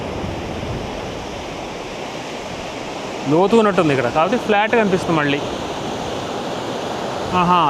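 Waves surge onto a beach shore in a steady, broad wash of surf that runs the whole way, with someone talking over it in the middle and again near the end.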